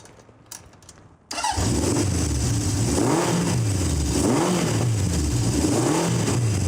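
A 1970 Honda CB750 inline-four motorcycle starts after a moment of quiet, catching abruptly, then idles loud and close with repeated throttle blips rising and falling in a steady rhythm.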